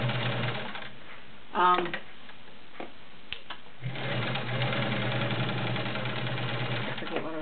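A vintage Kenmore Model 1750 heavy-duty 1.2 amp sewing machine stitches through six layers of denim, its motor whirring steadily at close range with a brief pause and a few sharp clicks partway through.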